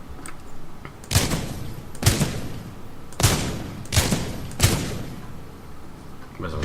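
A revolver in the video game Titanfall 2 fires five loud, heavy shots, each a sharp crack with a booming tail, spaced about a second apart with quiet gaps between.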